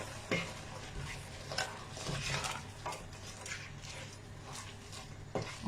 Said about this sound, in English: now I'm going to mix it up a little